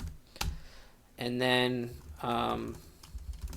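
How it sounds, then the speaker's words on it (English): Typing on a computer keyboard while entering text in the nano editor on Linux, heard as scattered light key clicks close by, partly under a man's speech. "you would just start off by typing out a bracket, global"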